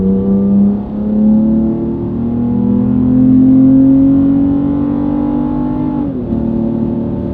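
A Toyota Tacoma with an aftermarket exhaust revs steadily up toward 6,000 RPM, its loud engine note climbing in pitch for several seconds before a brief dip and a sustained high drone.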